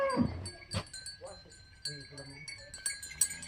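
Cows at a village livestock sale, with faint lowing and a metallic bell-like clink amid rural background noise and occasional voices nearby.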